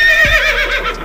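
A horse neighs once, a loud, close whinny with a shaky, wavering pitch that fades within about a second.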